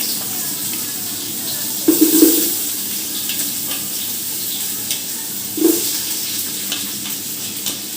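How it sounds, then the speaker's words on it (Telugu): Three onions fry in a pan for biryani with a constant soft sizzling hiss, broken by two brief louder bursts of stirring. "ఉల్లిపాయలు బాగా వేగాలి ఫ్రెండ్స్"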